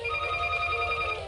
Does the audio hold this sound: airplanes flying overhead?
no